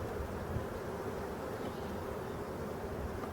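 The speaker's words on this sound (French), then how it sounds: "il y a quand même beaucoup d'abeilles à net là" Honeybees hum steadily at an open beehive as a keeper inspects the frames, a dense continuous drone of many wings close by with no voices.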